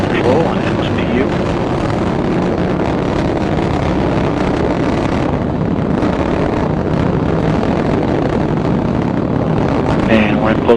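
An Atlas V rocket engine roaring during launch, a loud dense broadband rumble that holds steady throughout while a voice talks over it.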